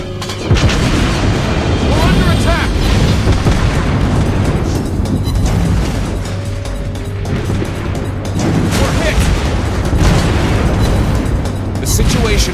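Battleship shells hit and explode in World of Warships Blitz, the HMS Queen Elizabeth firing amid a relentless barrage of loud, overlapping booms and bursts with a constant low rumble and a few sharper blasts spaced through about twelve seconds.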